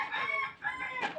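Chickens calling in a farmyard, a short burst of faint, distant clucking and crowing-like cries that rise and fall over about a second.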